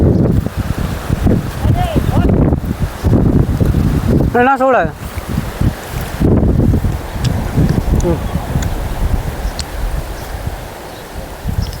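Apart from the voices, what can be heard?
strong wind blowing outdoors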